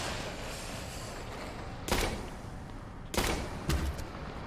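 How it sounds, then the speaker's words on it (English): Nail gun fired in the horror video game Tormented Souls: a few sharp, loud bursts spaced about a second apart over a steady background hum, with no talk. "Let's equip our nail gun."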